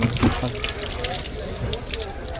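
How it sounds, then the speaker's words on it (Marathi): Water splashing and pouring as hands are washed aboard a fishing boat at Karanja jetty in Uran, a continuous close gush with a brief louder splash near the start. "अच्छा आता पाण्याला आपण हात धुऊया"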